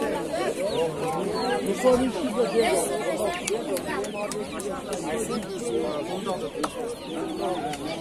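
Busy outdoor poultry market chatter with birds calling and pigeons among them, crowded voices talking continuously throughout.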